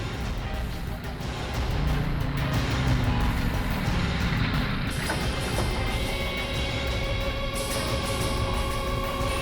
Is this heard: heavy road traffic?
yes